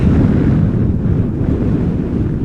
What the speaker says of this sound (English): Does this look like 14 knot wind to you guys?